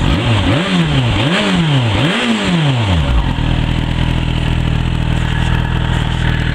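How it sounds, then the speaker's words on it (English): A Yamaha FZ6 Fazer motorcycle in standard trim revs hard three times in quick succession through its stock exhaust, the engine rising and falling, then settles into a loud, steady rumble. "I'll just let you hear the exhaust."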